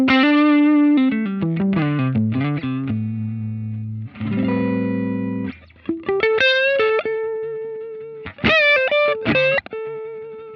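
Dry electric guitar through a Line 6 Helix preset with no delay, a loud lead phrase of bends, slides and sustained notes that stop abruptly, with no echo tails, played alone.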